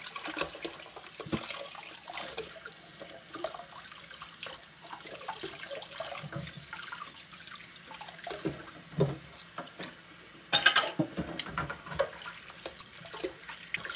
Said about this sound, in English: Finally filled up the sink with water